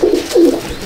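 Andhra pigeons coo in a breeding loft, with two or three low, throaty rolling coos repeating close by and no talk over them.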